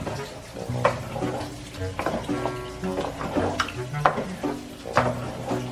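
Food is stirred in a pot during home cooking of rice over a low flame: scraping, clinking strokes come in an irregular rhythm close by, with a steady background hum and tones underneath.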